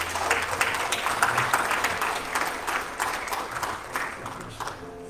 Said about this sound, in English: Would you give these guys a hand clap?